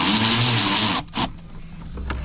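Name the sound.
removing 8mm bolts and clamp with a tool on Chevy Silverado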